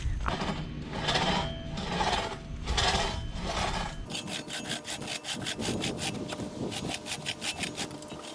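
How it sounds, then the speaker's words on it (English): Two-man crosscut saw cutting through a log, steady back-and-forth rasping strokes close up, slower broad pulls at first, then a quicker run of short, bright strokes, with no talking. "I'm holding a two-man crosscut saw"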